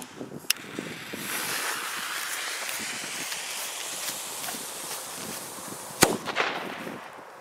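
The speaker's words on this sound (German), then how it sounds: "dann mal den Beko kubischen Kanonenschlag" A sharp, loud single bang from a cubic cannon-cracker firework with 6.75 grams of net explosive mass cracks out near the end over steady wind and outdoor rumble, with a fainter pop early on.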